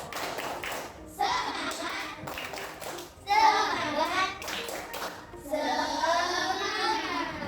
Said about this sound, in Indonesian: Kalau begitu kita tepuk semangat dulu.